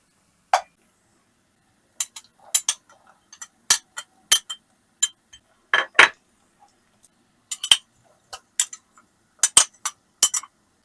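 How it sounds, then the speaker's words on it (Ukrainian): A metal spoon stirs frying meat, carrot and onion in a cauldron, giving sharp, irregular clinks and taps against the pot. They come in scattered clusters, close and fairly loud, with no talking. "І все перемішую."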